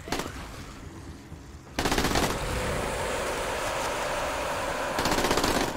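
Sustained automatic gunfire in the shooter game DF2, loud dense bursts of rapid shots that drop briefly then resume with heavier firing, no talk over it.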